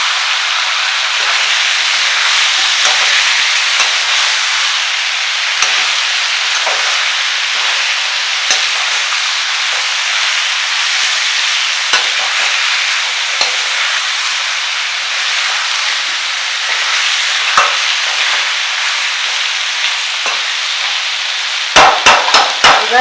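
Ginger garlic paste frying in a hot pan for pepper chicken, a loud, steady sizzling hiss that runs throughout with faint spatters and a few sharp clinks of a utensil near the end.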